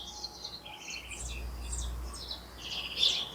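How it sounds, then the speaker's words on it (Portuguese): Several birds chirp and sing in quick repeated high phrases over a low background rumble, a steady outdoor chorus with no one talking. "o importante é aproveitar esse canto dos pássaros"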